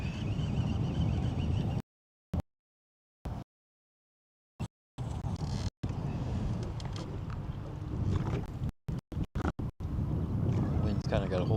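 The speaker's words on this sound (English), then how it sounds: "Wind's kind of got a hold of me now" Wind gusting over Patoka Lake during bass fishing, a steady loud rushing roar buffeting the microphone, broken by several abrupt silent dropouts before the blowing resumes.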